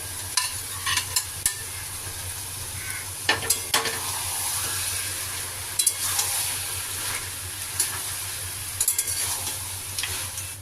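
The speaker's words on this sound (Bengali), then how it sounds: "এখন আমি ভেজে রাখা মাথাগুলো দিয়ে দেব।" Fried katla fish heads go into spiced bottle gourd, a steady sizzle under repeated spatula stirring with sharp clinks against the pan, close and loud, no talking.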